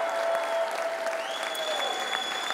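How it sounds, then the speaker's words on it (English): Thousands of fans applauding at Fountain Square, a dense, continuous wash of clapping and cheering with faint whistles over the crowd. "how about a round of applause for the thousands of fans at Fountain Square"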